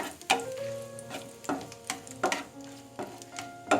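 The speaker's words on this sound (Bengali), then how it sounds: "এখন ফোড়নের জন্য আমি গোটা জিরা, শুকনো মরিচ এবং তেজপাতা দিয়ে দেব। দিয়ে এটাকে হালকা নেড়ে দেব।" Whole cumin, dry chillies and bay leaves sizzle in hot oil for a radish, eggplant and shrimp fry, with a steady crackle broken by sharp clinks and scrapes of stirring, close and loud with no talking.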